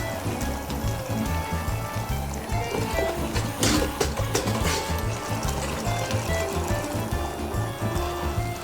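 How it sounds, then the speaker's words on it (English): Pasta water poured into a pan over high heat for aglio, olio e peperoncino, giving a steady liquid trickle and sizzle that runs continuously at moderate level, with faint background noise throughout. "we're gonna go very high heat. And we're gonna keep adding"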